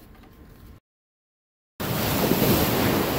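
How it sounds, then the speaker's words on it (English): Ocean surf rolling onto a beach during flounder fishing from the shore, a steady loud wash of breaking waves with heavy wind buffeting the microphone, broken by a brief stretch of silence before the roar returns stronger. "we're getting pounded by the waves now"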